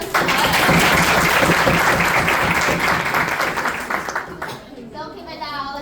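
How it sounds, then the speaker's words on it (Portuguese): A classroom of children applauds Our Lady, steady dense clapping for about four seconds before it thins out, with kids' voices mixed in and fading at the end. "Gente, uma salva de palmas para Nossa Senhora."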